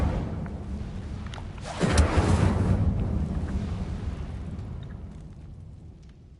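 Incendio fire spell cast in Hogwarts Legacy: a sudden whooshing burst of flame flares up near, then trails off into a long fading roar with no voices.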